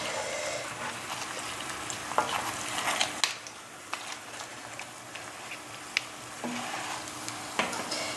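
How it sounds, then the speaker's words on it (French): A Thai roti pancake of dough with chocolate and banana fries on a stovetop over raised heat, giving a continuous soft sizzle broken by occasional sharp clicks and taps of a utensil, with no talking. "J'augmente encore le feu de la cuisinière et je laisse cuire"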